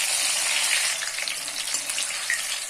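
Slit eggplants frying in hot oil give off a dense, even hiss, close and fairly loud, running unbroken with no one talking.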